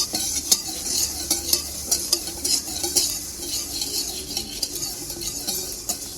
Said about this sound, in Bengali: এখন ভেজে নিব ধনে।